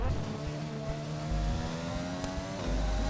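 A rallycross race car in France holds a steady, droning engine note as it comes round for another lap, moderately close and running continuously with no pauses.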